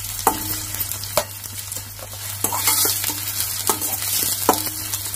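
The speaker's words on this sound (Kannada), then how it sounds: "ಈಗ ನಾನು ಹಸಿರು ಮೆಣಸಿನಕಾಯಿ ಹಾಕ್ತಾ ಇದ್ದೀನಿ" Green chillies and onion fry in a pan for lemon-rice chitranna, a steady close sizzle broken by repeated sharp scrapes of a spatula stirring every second or so, with a low hum underneath.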